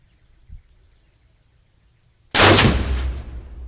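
A French MAS-36 rifle in 7.5x54mm fires one loud, sharp shot up close after a quiet pause, with a rolling echo trailing off across an outdoor range.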